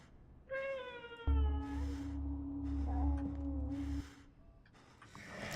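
A cat meows inside the video game Conarium: a clear rising-falling meow, then a longer drawn-out cry over a steady low drone, followed by a softer meow, all fairly close and without speech.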